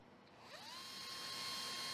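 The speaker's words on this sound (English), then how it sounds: "The holes are carefully drilled in both the sealant and the rear of the spacer in a single step using a special step drill." A special step drill bores holes through sealant and the rear of a SWISSPACER AIR spacer, its motor rising to a steady high-pitched whine that stays constant and fairly close, with no talking.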